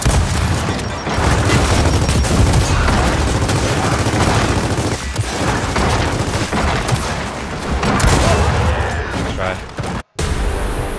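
In a competitive online shooter match, dense continuous gunfire and explosive bursts roar loudly with a grenade blast in the mix, mixed under voices of players talking, and cut off briefly near the end.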